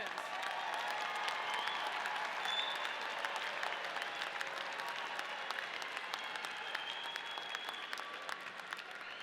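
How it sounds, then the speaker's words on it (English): Graduation ceremony crowd at a Colorado State University business college commencement giving sustained applause, a broad, steady roar of many hands heard from a distance, with faint cheers mixed in. "we need to give you all another round of applause"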